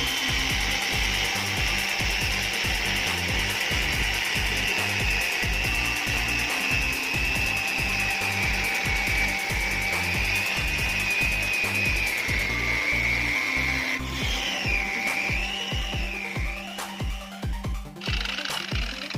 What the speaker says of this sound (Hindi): जैसे इस वाल पे हमें कटिंग करना है। अब चलिए इसे कटिंग करते हैं।